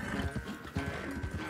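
Horse hooves galloping in Red Dead Redemption 2, a quick rhythmic clip-clop of repeated hoofbeats, moderately close and fairly quiet, running steadily throughout with a faint snort.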